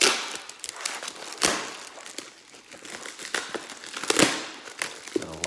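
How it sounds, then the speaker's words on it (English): Plastic wrapping around a cutlery set is pulled and torn open by hand, the tape-covered packaging giving close, irregular crinkling and crackling bursts with a few sharper rips, unaccompanied by voices. "wrapped in this plastic. Let's just wrap open."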